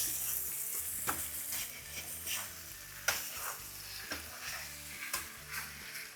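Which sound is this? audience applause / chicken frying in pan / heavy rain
chicken frying in pan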